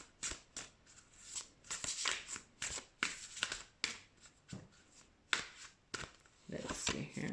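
Oracle cards are shuffled in quick, crisp bursts of riffling and flicking, each a short papery rustle, repeated steadily and close by with soft pauses between them.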